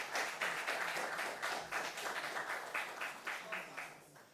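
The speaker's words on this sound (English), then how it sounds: "A round of applause for them," Quiz show audience applauding for competing senior high school teams, a moderate, even patter of many hands clapping over several seconds, fairly distant in the room.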